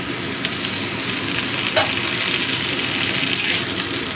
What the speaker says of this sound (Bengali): এবার আমি এর মধ্যে দিয়ে দিচ্ছি টমেটো কুচি।